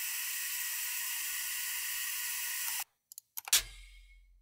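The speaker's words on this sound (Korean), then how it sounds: "산소 탱크를 릴리즈하는 소리." An oxygen tank sound effect: a steady, bright pressurized hiss runs for nearly three seconds and cuts off abruptly, followed by a few sharp mechanical clicks and a deeper clunk that fades out.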